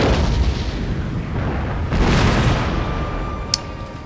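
Mangonels in Total War Shogun 2 send out heavy booming launches and impacts over a dense battle rumble, with a sharp surge midway and a brief crack near the end.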